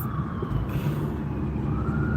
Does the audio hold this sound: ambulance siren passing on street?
yes